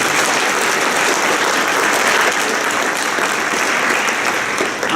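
A round of applause at a citizenship ceremony, a steady, full burst of clapping from a sizeable audience that holds evenly for several seconds.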